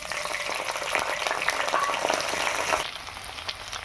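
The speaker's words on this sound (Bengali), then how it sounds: "ফোড়নে দেবো কালো জিরা, তারপর দেবো শুকনো লঙ্কা, তারপর দিব তেজপাতা, তারপর দেবো পেঁয়াজ বাটা" Black cumin, dried red chilli, bay leaf and onion paste fry in hot oil, giving a steady crackling sizzle close up. It grows quieter for the last second.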